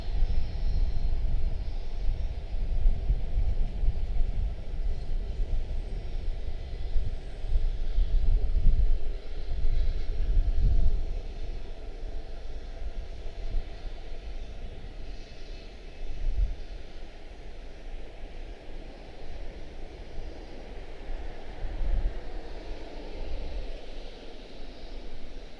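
An Embraer jet takes off at Washington Dulles airport. Its engines make a distant, continuous roar and rumble that swells, then slowly fades over about twenty-five seconds.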